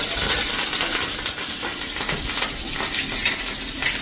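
Curry leaves crackle and sizzle in hot oil on a slow flame, tempering browned garlic for urad dal; a dense, steady spitting hiss that runs close and continuous without pause.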